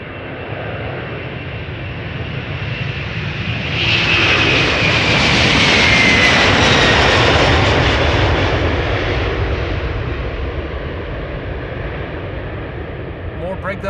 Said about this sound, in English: In the background, KLM flight 615 going to Portland, Jerry's hometown.